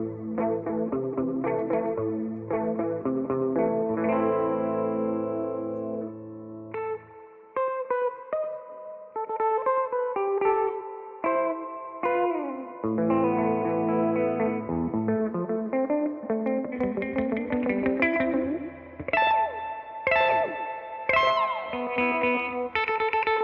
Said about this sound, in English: Grab another like guitar pedal-y kind of thing. So this is a chorus